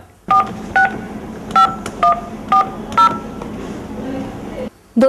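Eight short touch-tone beeps sound one after another at an uneven pace as a phone number is dialed, close and clear over faint background hiss.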